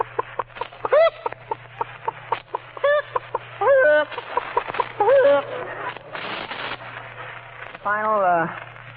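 A man vocally imitates a hen, producing a run of choppy clucks and rising cackles in short bursts, close and fairly loud, ending in a drawn-out squawking call.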